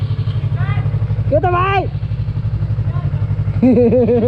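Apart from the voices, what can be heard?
Bullet motorcycle engine running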